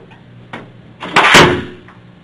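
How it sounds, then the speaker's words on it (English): A door in a police questioning room is pushed shut, with a faint tap first and then a single solid slam that rings out briefly in an otherwise quiet room. "Can you close the door, please?"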